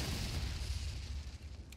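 A deep, rumbling explosion in Resident Evil 4 Remake, a single low boom that rolls on and slowly fades, fairly faint and heard alone.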